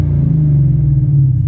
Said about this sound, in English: So I cannot complain about the exhaust at all